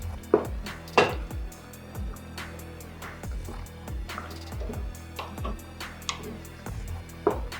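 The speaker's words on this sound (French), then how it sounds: "Là, on va mélanger le fumbu." Fumbu leaves are stirred in a cooking pot with a utensil, producing irregular close knocks, clanks and soft scrapes against the pot at a moderate level, with no talking.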